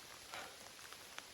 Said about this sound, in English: So yes, it's raining